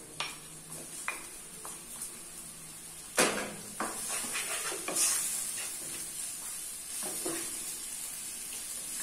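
Chopped small onion and dried shrimp sautéing in a pan, a soft, fairly quiet sizzle with occasional stirring clinks and scrapes close by.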